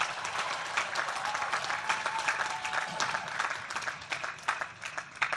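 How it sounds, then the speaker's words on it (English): A large audience at a Howard University commencement applauds continuously, a dense, steady wash of clapping heard from a distance at moderate volume. "Let's give them a big round of applause as well."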